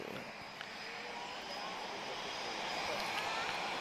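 A Ryanair Boeing 737-800 jet departs Lisbon Airport bound for Dublin, its engine roar a steady, fairly distant broadband rumble that builds slightly over a few seconds amid outdoor ambience.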